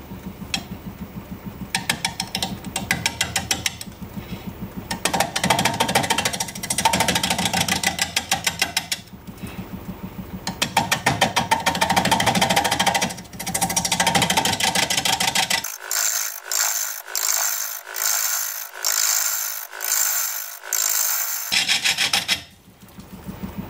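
A honeysuckle root, rocks and rot included, is turned on a wood lathe as the tool works the bottom. Loud, close rasping and scraping comes in rhythmic passes, then gives way to sharper, evenly spaced mechanical ticks.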